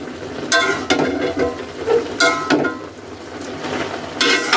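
Spoon stirring bean pods and bathua greens frying in a pan, with a few loud scraping, clattering strokes at intervals over a steady close sizzle.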